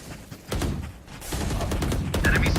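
A swarm grenade in the shooter game Valorant goes off as a close cluster of rapid, overlapping small blasts and pops that keeps crackling for a couple of seconds.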